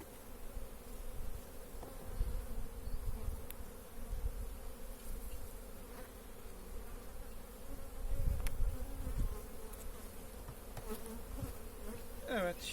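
Honeybees crowd a hive while sugar syrup is poured in for them, sending up a continuous close buzzing drone at an even level, with a few low knocks and handling thumps underneath.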